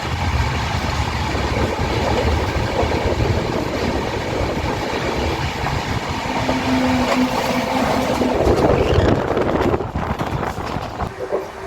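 A passenger train rumbles along at speed near Bardhaman, steady rolling roar with rattling carriages and wind buffeting, continuous throughout.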